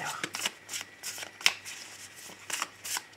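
Tarot cards being shuffled by hand, a run of quick papery riffles and flicks repeating in uneven bursts, close and clear with no talking.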